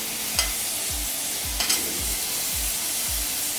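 Ginger and garlic sizzle in hot oil and are stirred briskly. A steady frying hiss runs underneath regular rhythmic scraping strokes, close and clear, with no talk.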